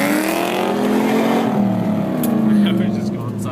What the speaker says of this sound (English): Your tires aren't hooking very good, you're just smoking them up.